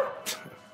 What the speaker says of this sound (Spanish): Es un perro. No tiene botón de apagado.